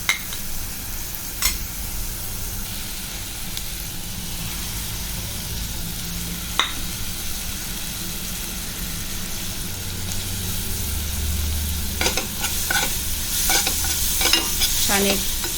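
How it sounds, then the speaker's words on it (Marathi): Onion sautéed in a pan with ginger-garlic paste and spices, a steady close sizzle under repeated scraping stirs of a spatula, the frying growing livelier and the stirring more frequent toward the end. "छान 1-2 मिनटं चांगला कांदा परतवून घेऊया, सगळे मसाले एकजीव होईपर्यंत."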